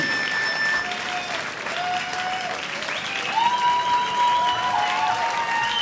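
Steady applause from a live club audience for a band at their anniversary concert, continuous clapping with some whistling and murmured voices, swelling slightly toward the end.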